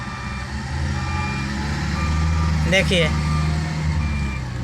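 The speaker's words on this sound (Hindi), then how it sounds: "ये टेलर बैक कर रहे हैं" A trailer truck reverses with a steady low engine rumble and faint reversing beeps running underneath, while a voice speaks briefly close by.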